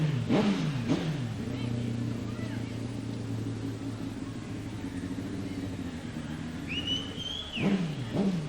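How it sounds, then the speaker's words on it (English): Racing sidecar engines rumble and rev nearby at a race final, with rising and falling pitch sweeps as throttles are blipped, over a steady low idle and some crowd noise. "start your engines."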